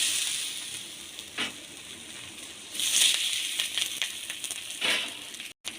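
Rohu fish paturi, fish parcels set into hot oil in a pan, give a soft continuous sizzle and hiss. Several brighter spitting crackles rise out of it, with light clinks between them and no talk.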